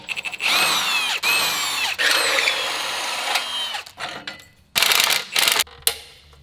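A power tool fitted with a 16 mm socket whirs loudly in repeated bursts, pausing briefly between them, as it removes bolts from a crashed Porsche GT3 RS. No voices are heard over it.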